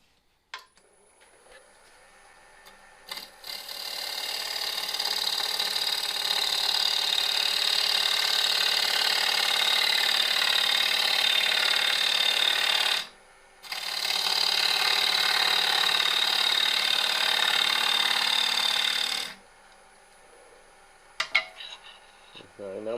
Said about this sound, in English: you can sand the outside of the bowl